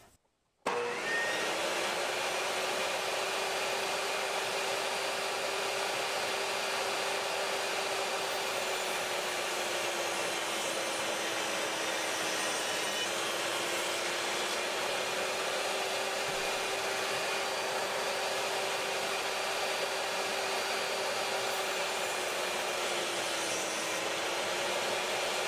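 A Craftsman table saw runs steadily with a new blade, a loud continuous motor whine and cutting noise starting abruptly after a brief silence and holding through, with slight pitch dips as wood is fed.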